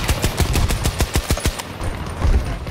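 Rapid burst of automatic gunfire from a new season one weapon in the Battlefield 2042 video game, about a dozen evenly spaced punchy shots over a second and a half, then quieter distant shots.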